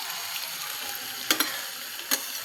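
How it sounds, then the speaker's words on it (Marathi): Okra frying in a pan with gram flour and onions gives a soft, steady sizzle, broken by two or three brief crackling bursts near the middle and end. "आता ही भेंडी याच्यामध्ये टाकून देते"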